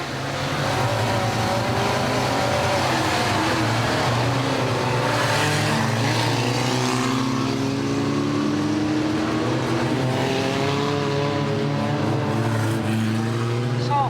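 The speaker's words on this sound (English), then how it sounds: "491 John Mason in the orange Citroen" Stock cars in a bomber class race, an orange Citroen among them, roar continuously at close range, engines revving and rising and falling in pitch as they race around the track, with no talking.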